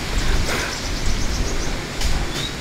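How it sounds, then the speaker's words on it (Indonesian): Strong gusting wind before rain, a steady broadband roar with louder surges near the start and again toward the end, with no talk. "anginnya lebat sekali."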